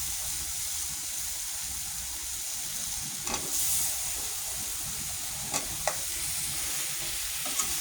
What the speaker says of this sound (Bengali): গরম মশলার সাথে আলুগুলো এইভাবে কষিয়ে নেবেন সুন্দর করে।